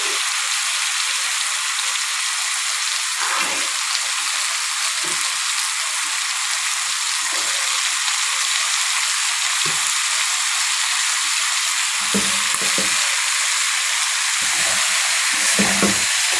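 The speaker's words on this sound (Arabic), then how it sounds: "كده بقى اشوحها مع الفراخ كده مع البصل عشان كله ياخد من طعم بعض" Vegetables sautéing in a pan with chicken and onion give a steady, close sizzle and fry that runs throughout, broken by a few scraping stirs and utensil knocks.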